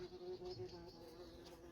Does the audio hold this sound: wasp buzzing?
yes